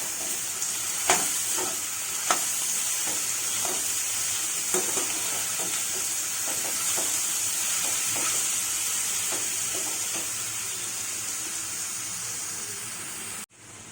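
Chana dal, drumstick and ridge gourd curry stirred in a pan, with repeated scraping strokes of a spoon over a steady frying sizzle, close and alone.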